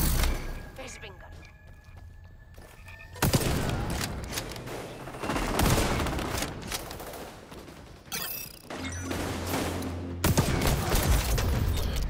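Gunfire in the shooter game XDefiant, bursts of rapid shots and heavy blasts in close succession with quieter gaps between, loud and near, mixed with game voice lines.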